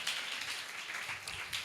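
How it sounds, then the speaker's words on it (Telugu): A church congregation claps along during Sunday worship, a soft, steady patter of many hands heard somewhat distant and faint throughout. "చప్పట్లు కొట్టి ప్రభునామమును మహిమపరుద్దాం"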